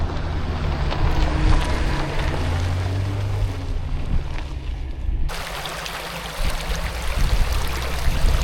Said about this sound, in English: So this is the last water crossing coming down off the Mount Buster track.